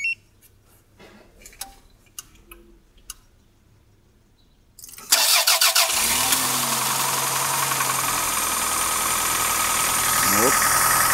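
A cold 21-year-old car engine cranks and fires after a few quiet seconds of faint clicks, then settles into a loud, steady idle with a rough, knocking undertone.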